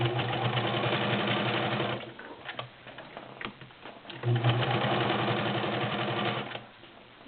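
A Morse Apollo 6500 sewing machine stitches through five layers of heavy denim, a steady loud mechanical whir with a rapid needle rhythm that slows and pauses midway before running again.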